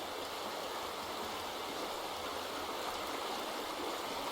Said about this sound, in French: ça baisse le niveau de l'eau